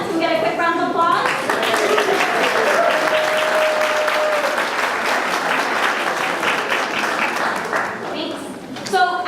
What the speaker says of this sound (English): Can we get a quick round of applause?